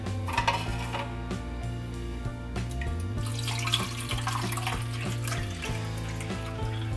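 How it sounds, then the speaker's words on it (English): Water pours and splashes into a container, running steadily with small trickles and clinks over a faint background hum. "Pour this water into here."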